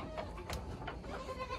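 Ten-day-old goat kids bleat in a pen, several thin, wavering cries close by, one after another over a soft background, with no talking.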